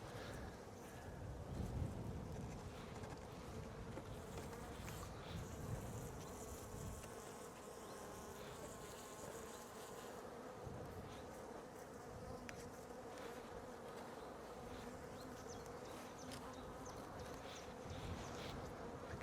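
A swarm of honeybees buzzes steadily around a hive in April, a dense, continuous drone close to the microphone, with light wind rumble underneath and no talking.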